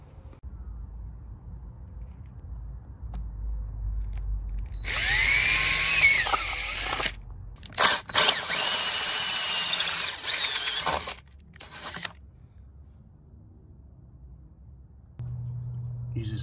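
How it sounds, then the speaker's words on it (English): Loud high-pitched power drill whirring in bursts while pre-drilling mounting holes, with a short pause and a few brief restarts before it stops; a low hum continues underneath. "This drill bit is to pre-drill the mounting holes."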